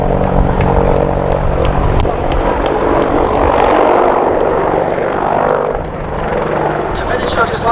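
Attack helicopter display team performing at the Duxford Air Festival in 2019, a loud, continuous rotor and engine roar that swells and fades slightly as the aircraft manoeuvres, with an announcer's voice over it.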